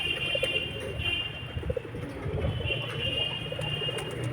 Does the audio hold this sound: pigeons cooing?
yes